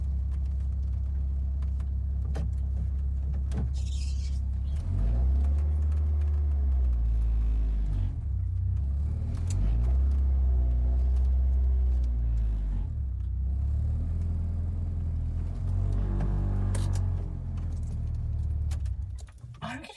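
A 36-year-old French car's engine runs with a steady, heavy low rumble throughout, while a person talks over it.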